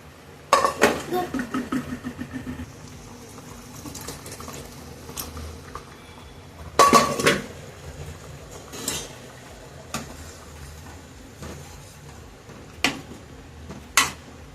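Mutton going into a simmering pot of mutton kulambu with drumstick and potato, heard as a few sharp clanks of utensil against pot and wet plops in separate bursts over quiet kitchen background.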